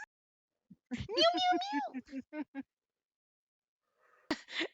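A voice imitates a cat with a drawn-out, whiny meow followed by a few short syllables, then silence and a brief voiced sound.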